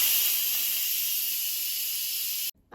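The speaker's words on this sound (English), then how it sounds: "so let's quick release the steam." Instant Pot quick-releasing steam after pressure cooking chicken thighs, a loud continuous close hiss that cuts off abruptly near the end.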